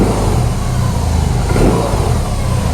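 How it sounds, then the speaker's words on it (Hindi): BMW R 18 premium cruiser motorcycle with a horizontal boxer engine, a loud, close, throbbing exhaust note that rumbles continuously at steady volume with no talking. "अब मैंने चालू किया तो ये ऐसे चालू होती है ये मोटरसाइकिल। और इसका एग्जॉस्ट नोट देखिए,"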